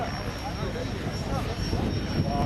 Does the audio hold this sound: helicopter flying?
yes